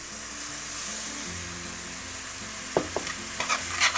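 Flour being stirred into a sizzling pot of coq au vin, a steady close frying hiss with a few sharp spoon scrapes and clinks toward the end, no voices.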